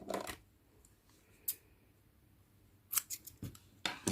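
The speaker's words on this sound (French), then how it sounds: "On va couper une bonne longueur pour coudre après." Scissors cut a length of yarn while an amigurumi alarm clock is being crocheted. Sharp snips come in short bursts at the start and again near the end, with quiet stretches between them.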